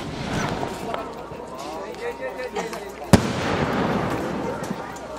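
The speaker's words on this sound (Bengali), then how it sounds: "অন্যদিকে বাড়ির ছাদে চলছিল আতশবাজি।" Fireworks go off on a house rooftop during a wedding turmeric ceremony at night, with one sharp loud bang standing out among scattered crackles and a busy background of voices.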